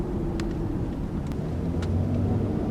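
A 2012 Dodge Charger SE with a V6 engine accelerates from a standstill. A steady, low engine rumble is heard from inside the car and holds constant for a few seconds without speech.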